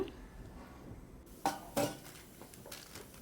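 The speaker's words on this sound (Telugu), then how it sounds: "హెన్నా పౌడర్ని మిక్స్ చేస్తున్నా." Henna powder being mixed with boiled tea water in a bowl, two distinct clinks of a spoon against the bowl over soft quiet scraping, close and faint, without any talking.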